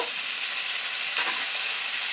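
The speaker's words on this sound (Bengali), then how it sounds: "ওই তেলের ভিতরে আমি এই আলুগুলো ভেজে নেব সামান্য একটু হলুদ" Potato pieces fry in hot oil with a little turmeric, giving a close, steady sizzling crackle that runs without a break throughout.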